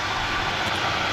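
An EasyJet Airbus A330neo jet at Manchester Airport gives off a continuous, broad engine roar, steady and loud throughout the short stretch with no voices over it.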